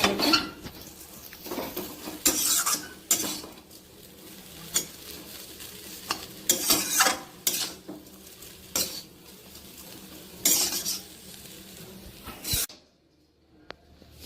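Chowmein stir-fried in a pan with a little sugar added, metal utensil scraping and clattering in bursts over a low steady sizzle, ending in near silence.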